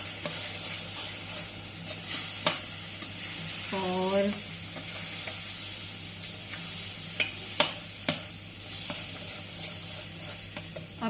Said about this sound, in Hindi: इसकी आवाज़ फुस-फुस की आ रही होगी